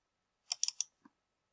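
Quick clicks of a computer mouse, close and faint: a tight cluster of four light clicks followed by one softer click, in a quiet room.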